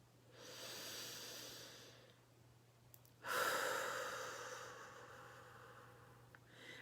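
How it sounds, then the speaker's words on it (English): Slow guided breaths, in through the nose and out through the mouth, heard as two soft airy rushes separated by a brief pause, the second exhale louder and longer, with no talking over them. "we're breathing in through the nose and we're breathing out through the mouth"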